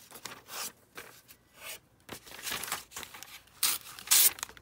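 Sewing pattern paper being folded in half, close crinkling and rustling in short irregular bursts, with a couple of sharper crisp crackles near the end.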